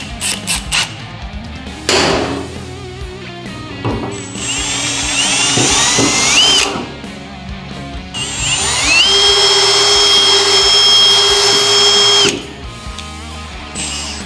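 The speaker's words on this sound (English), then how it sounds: "Got myself the cheapest hole saw kit I could find at Bunnings. I'm only gonna be using it once to drill this hole" A cheap hole saw on a power drill bores through the body of a 30-year-old car, loud and close, with several whining bursts of grinding and cutting separated by short pauses, the drill's pitch climbing as it spins up.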